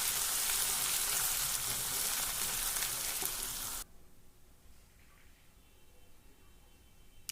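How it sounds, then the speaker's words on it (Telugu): Ginger garlic paste frying in a pan for a spicy dhaba-style chicken fry, giving a loud, steady hiss and sizzle for about four seconds before dropping abruptly to a faint, quiet background. "ఇప్పుడు అల్లం వెల్లుల్లి పేస్ట్ 1 స్పూన్ వేసుకున్నాను. ఇది కానీ పచ్చివాసన పోయేంత వరకు ఫ్రై చేసుకోవాలి."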